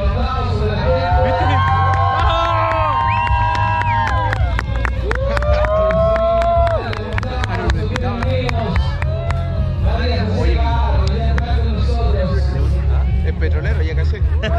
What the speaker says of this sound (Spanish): Y los gritos, los aplausos de la gente.